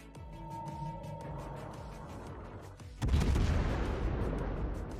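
Naval gun salvos from the American cruiser USS Indianapolis in World of Warships: a rumbling battle backdrop, then a loud, sudden broadside boom near the three-second mark that rolls on as heavy sustained roar.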